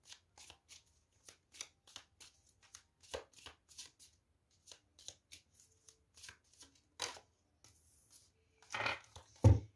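Oracle cards are shuffled by hand in a run of quick, close riffling and sliding bursts separated by brief pauses, ending in a denser flurry of card handling and a soft tap.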